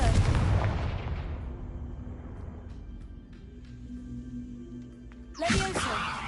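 Confringo blasting curse in Hogwarts Legacy erupts into a loud boom that fades into a long low rumble, followed near the end by a sharp fresh burst.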